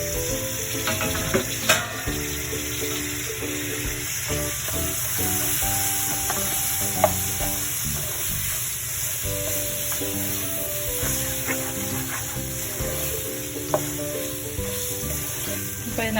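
Tomatoes and onions sizzle steadily in a hot pan while being sautéed for a scallop curry, a continuous crackling fry with occasional stirring scrapes and a faint tonal hum underneath.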